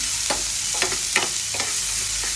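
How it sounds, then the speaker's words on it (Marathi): Soaked fish sizzles in a hot pan while being sautéed and stirred, with several sharp scraping strokes over a continuous frying hiss, loud and close. "मी चांगलं परतून घेणार कारण की भिजवलेली मच्छी आहे"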